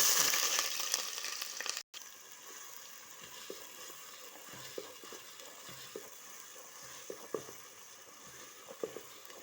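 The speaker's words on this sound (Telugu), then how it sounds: "నూనె వేడెక్కింది ఉల్లిగడ్డ వేద్దాం" Chopped onions sizzle and fry in hot oil in a pan, a loud crackling hiss that settles into a steady, close frying sound with occasional small pops.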